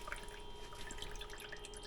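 Water dripping out of a 1979 Porsche 924 fuel tank after cleaning, heard as a faint, continuous patter of small drips over a low background hum.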